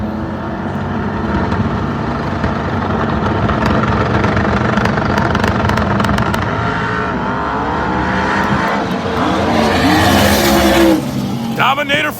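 Race cars staged at a drag strip build turbo spool before launch, a dense loud engine drone with rising whine and rumble throughout, crowd noise and talk mixed in.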